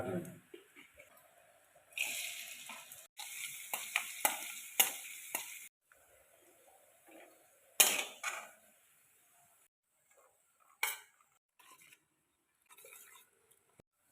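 Coconut pieces crackle and scrape in a hot pan, with bursts of sizzling and metallic stirring clatter separated by quiet pauses.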